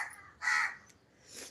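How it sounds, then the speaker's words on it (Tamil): A crow cawing outdoors, two harsh raspy calls in quick succession, moderately close and fairly faint, with no talk. "காக்கா கத்திக்கிட்டே இருக்குது."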